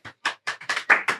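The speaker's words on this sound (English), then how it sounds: "Can we get a round of applause for Pom?" A small audience claps at a live comedy show, six short separate bursts of hand claps spaced about a quarter second apart, close and fairly loud, almost like slow rhythmic clapping.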